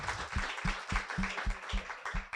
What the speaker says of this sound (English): And give Jace a clap.